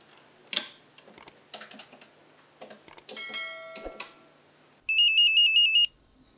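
A phone ringtone trills loudly near the end in one sustained electronic burst, preceded by scattered small clicks and taps like keys being pressed, with no talking.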